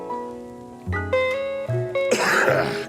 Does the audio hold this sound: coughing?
yes